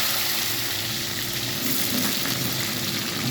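Onions with curry leaves and mustard seeds frying in a pan for a coconut-based fish curry, a steady close sizzle with faint stirring and no talk.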